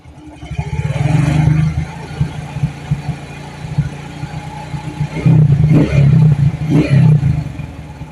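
A Honda Astrea motorcycle engine idles with a low, uneven putter, then is revved in two bursts that swell louder and rougher before dropping back to idle, heard close up with no talk.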